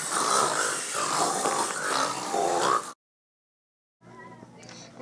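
Loud, rough snoring given to a giant T-Rex asleep on green grass, with pig-like snorting grunts in a steady rhythm for about three seconds, then a second of silence before fainter rumbling resumes.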